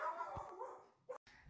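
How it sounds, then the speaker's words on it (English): Neighbours' dogs barking somewhere nearby, a few muffled barks rising over a steady background hum, fairly faint and followed by a brief silence. "the neighbours' dogs are now going off"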